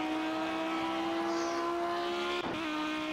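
Audi race car engine in the Project Cars racing game, a steady sustained tonal drone at constant pitch, moderately faint, with a brief disturbance near the end and no talk.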